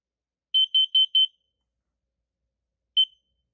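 A Kidde KN-COPE-IC carbon monoxide alarm sounds four quick, shrill beeps in a tight row, then pauses and gives a single beep, each tone loud and clean against silence.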